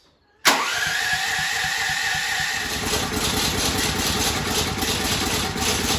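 Champion 12,000W portable generator catching on its first start, bursting abruptly from silence into a loud, steady, close mechanical running drone that holds at an even level, with no talking over it.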